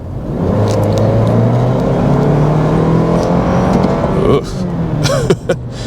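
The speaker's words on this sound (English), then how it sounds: "for the coarseness sounding of this engine here" A 2024 Toyota Land Cruiser 1958 SUV engine hums and drones steadily from inside the cabin, a low rough tone with slight rises, and a voice speaks over it near the end.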